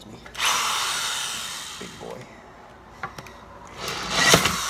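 A power drill whirs in bursts with a drill bit that is too big while drilling into a plastic DC-15A blaster rifle replica to fit a blue LED. Short clicks and handling noises come between the runs, and the drill is close and fairly loud.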